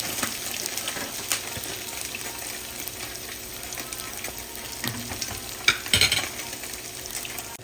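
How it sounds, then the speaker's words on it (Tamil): Pre-fried onions go into sizzling ginger and garlic for nasi goreng, with steady frying hiss, stirring scrapes and a louder burst of sizzle near the end, no voices. "இந்த இஞ்சி பூண்டு பொரிய இதுக்குள்ள பொரிச்ச பம்பா வெங்காயத்தை நான் போட போகிறேன்."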